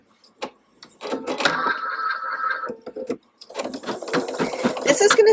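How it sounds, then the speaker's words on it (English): Embroidery machine stitching a zigzag outline around a punched work tie in the hoop, bursts of close rapid mechanical stitching with brief pauses and small clicks. "This is going to stitch a zigzag stitch all the way around the outline of the entire tie."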